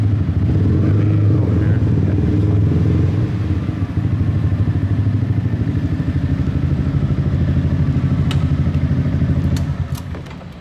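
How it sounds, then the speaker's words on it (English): On a Saigon street, a motorcycle engine idles and putters up close as the bike slows to park, a loud steady throb that eases slightly near the end, with faint clatter and distant traffic behind it. "So let's park the bike."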